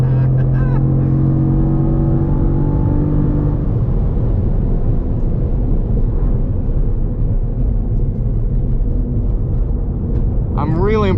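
Engine of a 2023 Cadillac CT4-V Blackwing pulling hard past a Miata on track, a loud sustained roar with rising harmonics at first, then a steady dense drone under occasional talk.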